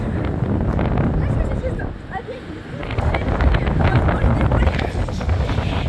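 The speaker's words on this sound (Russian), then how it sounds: "Ветер сильный, отвратительный." Strong gusts roar and buffet the microphone continuously on a stormy seafront at Arkhipo-Osipovka, with a brief lull midway, while people talk over the wind.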